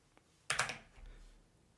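A short burst of typing on a computer keyboard during AutoCAD work: a quick cluster of close, crisp key clicks after a faint single tap, then quiet.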